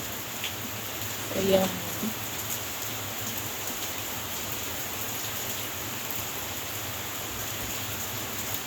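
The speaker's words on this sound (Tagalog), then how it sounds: "Sobrang lakas ng ulan dito ngayon, guys." Heavy rain falls as a steady, even hiss throughout, with a brief spoken word from a person near the start.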